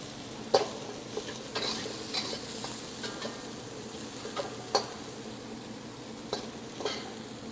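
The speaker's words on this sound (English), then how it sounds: "So we added our Bermuda onion or red onion and some chopped garlic" Red onion and chopped garlic sizzle in a hot pan, a steady soft frying hiss broken by scattered stirring clicks and scrapes, fairly quiet and without talk.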